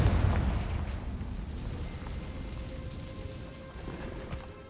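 A Confringo blasting spell explodes in Hogwarts Legacy, a loud close boom that hits at once and decays into a long rumbling tail with faint crackle.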